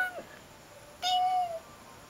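A house cat meows twice, a short faint call followed by a louder, longer drawn-out meow, close to the microphone in an otherwise quiet room.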